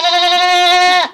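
A single goat (billy goat) gives one sustained, loud bleat with a clear harmonic tone lasting about a second, close to the listener, then breaks off abruptly.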